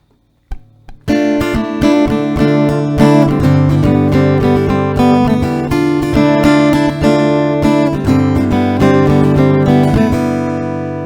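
An acoustic guitar plays a bright plucked melody over ringing chords, close and clear, with steady rhythm and no voices.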